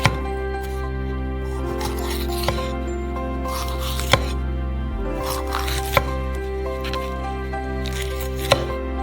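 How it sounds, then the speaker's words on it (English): A knife slices through a red pepper on a cutting board, giving sharp, regularly spaced chops and taps spread across the clip over a steady low hum with tonal background music. "Cut off the pulp from a red pepper."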